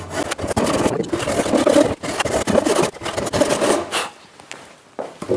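A hand saw rasps through wood in rapid back-and-forth strokes while cutting joinery for traditional Korean lattice work, close and loud, pausing briefly before the strokes resume more lightly.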